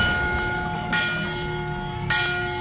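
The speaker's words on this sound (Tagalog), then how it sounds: "Mga simbahan sa Pilipinas inatasan ng CBCP na magpatunog ng kampana kasunod ng pagpanaw ng Santo Papa." Philippine church bells toll after Pope Francis's death. Two loud, ringing strikes about a second apart each leave a long, humming resonance that hangs between them.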